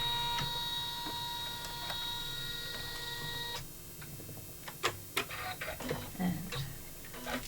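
An embroidery machine stitches out an in-the-hoop pouch with a front foldover, a steady mechanical whir with quick regular ticking that stops partway, followed by scattered light clicks and handling knocks.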